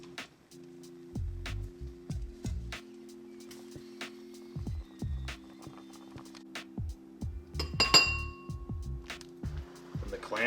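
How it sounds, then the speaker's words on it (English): A steaming pot of freshly dug clams is shaken, giving repeated bursts of clattering shell and metal clinks over a steady low hum, close and moderately loud. "Every so often I'm going to go over and I'm going to shake the pot just to kind of stir the clams around"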